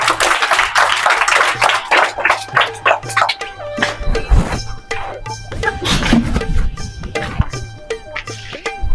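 A group claps in a rural village meeting, a burst of uneven hand claps spread through the room, mixed with a few voices and scattered taps.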